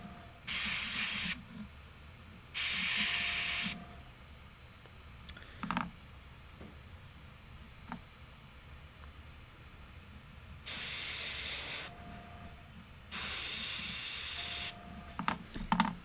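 Airbrush blasting air at high pressure in about four sharp bursts of loud hiss, each lasting a second or so, with quiet gaps and small clicks between them.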